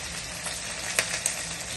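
Curry leaves sizzle in hot oil alongside garlic, onion, green and dried chillies, mustard seeds and cumin, a steady close hiss broken by a couple of sharp pops, with no one speaking.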